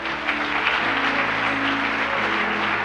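Congregation in a church clapping for Jesus during a sermon, a full continuous roar of applause with a low sustained tone, probably music, running beneath it and no speech on top.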